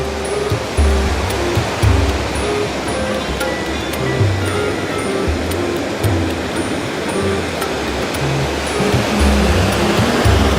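Loud, continuous ocean surf roars around a small fishing boat off the coast, with steady rushing water and surging waves under a low engine-like drone.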